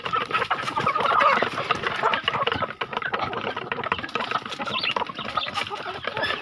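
Chickens cluck steadily and busily while pecking at feed, with many overlapping calls close by and a low engine hum underneath.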